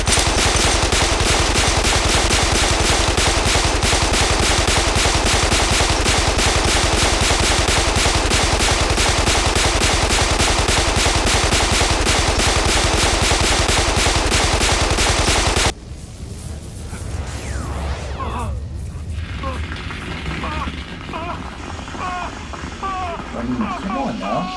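Gunfire from a movie as characters shoot at a floating head: a dense, loud, continuous rattle of rapid shots for about fifteen seconds, then it cuts off to quieter mixed sounds with voices.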